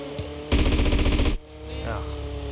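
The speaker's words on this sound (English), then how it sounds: "Oh, machine guns." Machine gun fire from GTA San Andreas rattles in a single rapid, loud burst of under a second against steady game background sound.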